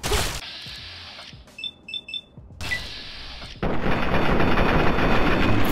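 Gunfire from a video game while shooting from stairs at regulators: sharp shots and a few beeping tones, then a sustained loud burst of rapid firing toward the end.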